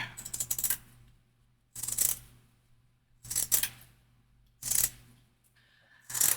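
Scissors snip through paper for an autumn journal topper in four or five separate bursts of quick crisp cuts, close and fairly quiet, with pauses of near silence between them.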